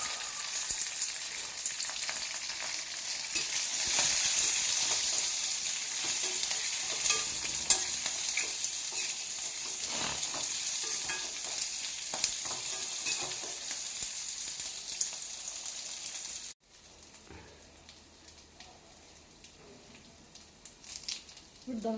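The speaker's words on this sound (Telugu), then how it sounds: "ఇది ఒక పెద్ద ఆనియన్ చీరికలు వేస్తున్నానండి" Sliced onion, ginger pieces and green chillies frying in a pan for upma, a loud continuous sizzle with stirring that suddenly drops to a quieter simmer near the end.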